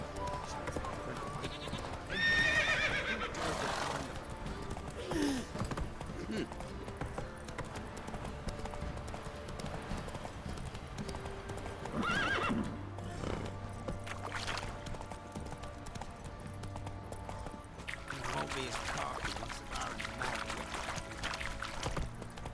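A horse gallops in The Witcher 3 on PS5 with a steady, continuous clip-clop of hooves over game ambience, holding an even loudness for a long stretch.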